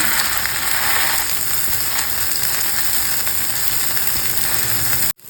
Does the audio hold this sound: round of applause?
no